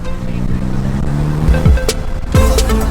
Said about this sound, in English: The blow-off noise.